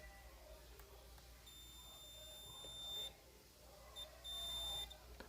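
Multimeter set to continuity giving thin, high electronic beeps while probing an Electrolux washing machine power board, one long tone then two shorter ones, faint against quiet room noise.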